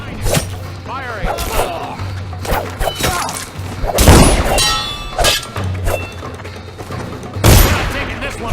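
Gunfire in the video game Dishonored (Knife of Dunwall DLC): scattered shots and heavy thuds crack through a chaotic combat scene, loud and close, with voices shouting in between.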